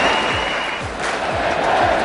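A big cricket crowd gives a standing ovation, with sustained applause and cheering washing steadily across the ground at a distance.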